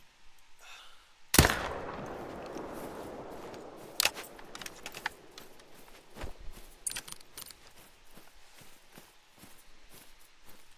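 A single loud rifle shot fired at a deer in theHunter: Call of the Wild, sharp and close, followed by a long fading echo, then scattered lighter clicks and rustling footsteps with no talking.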